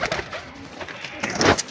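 Soft, close cooing from prize fancy pigeons comes in a few short murmuring phrases, the strongest near the end.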